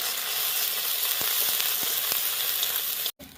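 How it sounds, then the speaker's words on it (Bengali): Ginger and green chilli paste frying in hot oil for a river fish curry gives a steady close sizzle, with a few soft spatula taps scattered through and a brief break near the end. "এবার ভালো করে এটাকে একটু কষিয়ে নেব যাতে আদার গন্ধটা না থাকে"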